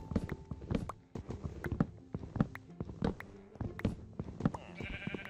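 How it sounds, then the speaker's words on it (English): Sheep in the video game Minecraft bleat repeatedly in short, close calls, mixed with soft blocky footstep-like taps and a brief chime near the end. "Hello, sheep. I saw you at the corner of my eye."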